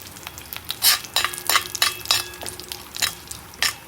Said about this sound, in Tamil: இப்போது கடுகு போடுறேன்.